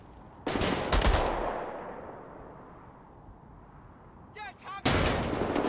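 Burst-fire gunshots from a weapon in the first-person shooter Wolfenstein: The New Order, loud close bursts with a sustained rumbling tail, then another sharp burst after a brief lull.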